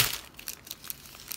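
A plastic bag from an art painting unboxing crinkles and rustles up close in brief, uneven bursts, with no talking.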